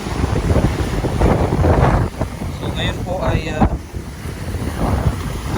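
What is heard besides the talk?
large waves crashing during typhoon Opong, with wind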